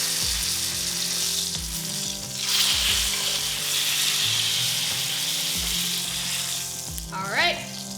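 Tri-tip steak sizzling loudly in a hot pan as it is flipped and basted, a steady crackling fry with bursts of spattering and metal clinks, and a voice heard briefly.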